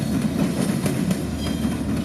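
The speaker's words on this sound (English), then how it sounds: "This would be X64713, freight for Waycross heading south on its last leg of its multi-state trip from Chicago." A southbound CSX freight train in central Georgia, pulled by four mixed locomotives led by an ES40DC, rolls past close by with a continuous rumbling clatter of wheels and cars.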